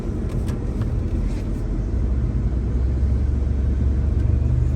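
A Mercedes ML63 AMG with the M157 bi-turbo engine on a test drive gives a steady, low road and engine rumble from inside the cabin, unbroken for a few seconds.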